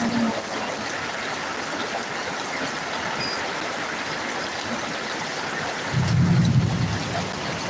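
Steady rain falls outside a shop veranda on a hot day, a soft, even wash of patter throughout, with a brief low rumble near the end.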